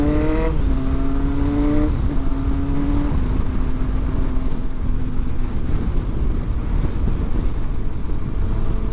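Toyota Prius driving along, a steady broadband road and wind roar throughout with a rising engine or motor tone in the first few seconds that levels off, close and fairly loud, with no talk.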